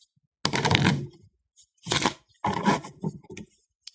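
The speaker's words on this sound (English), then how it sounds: "shuffle our power card deck" Cards from a board game's power card deck being shuffled by hand: three separate crisp riffling bursts, close and fairly loud, with short quiet pauses between them.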